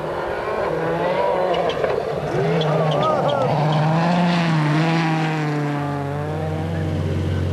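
A rally car engine roars and revs nearby, its pitch sweeping up and down through gear changes, loud and continuous.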